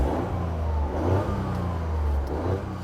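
Exhaust note of a Toyota sports car, a steady low droning engine hum with slight rises in revs, close and continuous with no talk.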